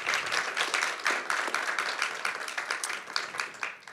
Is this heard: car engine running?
no